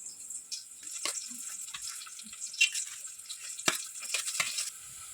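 Tempering for a tamarind flower and drumstick saaru fries in a hot pan, with a steady bright sizzle and crackle, sudden louder spits and stirring scrapes scattered through it.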